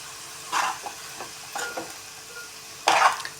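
Cooked broad beans (chikkudukaya) being stirred in a pan, heard as a few separate scraping, sizzling strokes spaced across the moment, the last one the loudest, with quiet gaps between.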